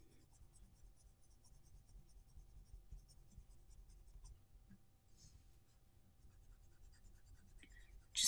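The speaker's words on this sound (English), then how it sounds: "Just glazing using the side of the pencil." Coloured pencil glazing across paper with the side of the lead, a very quiet, continuous soft scratching with faint rhythmic strokes close by, alone without voices.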